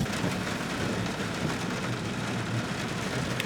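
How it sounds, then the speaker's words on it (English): A thunderstorm heard from inside a car near Garden of the Gods in Colorado: steady heavy rain hisses and drums on the vehicle with a continuous broad wash and low rumbling underneath. "It's thunderstorming."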